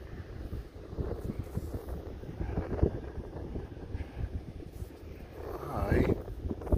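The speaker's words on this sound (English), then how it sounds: "It is extremely windy out here." Strong wind buffets a microphone outdoors during a metal detecting outing, a continuous low rumbling roar with gusts that swell near the end, loud and close, with faint voice fragments underneath.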